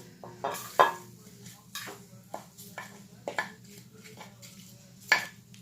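Onions dropped into a hot, dry pan with no oil, making short bursts of hissing and scraping against the metal, with quieter gaps in between.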